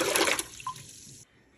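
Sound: water being poured into a pot

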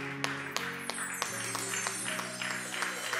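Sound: congregation clapping hands

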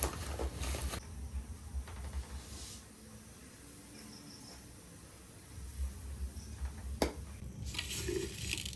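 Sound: pouring loose tea leaves into a container

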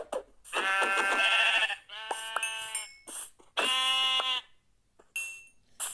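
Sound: sheep bleating in video game Minecraft

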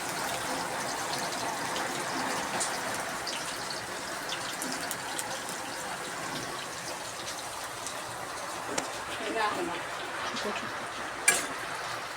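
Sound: chopped onion frying in hot oil

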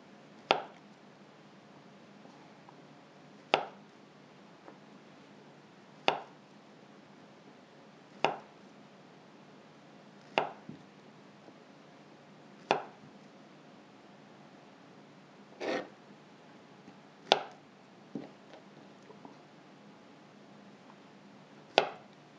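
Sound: knife slicing bananas for banoffee pie

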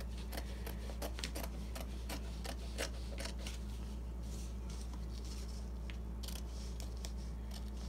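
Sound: scissors cutting fabric edges

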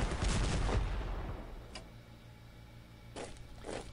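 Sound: artillery fire in the video game Strategic Command WW1

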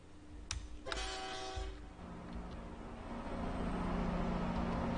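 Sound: train running in Train Simulator video game

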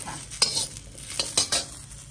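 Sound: dry-roasting large chilies in a pan

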